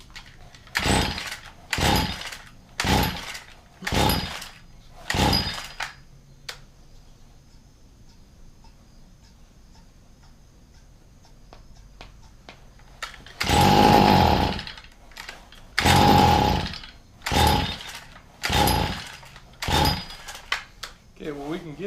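A Stihl weed trimmer engine revs in short, rough bursts, sputtering between pulses, with a quieter idling stretch in the middle before the bursts resume; the spark arrestor screen appears plugged.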